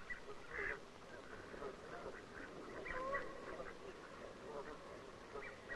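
Ducks quack intermittently at a moderate distance over a steady, noisy outdoor background.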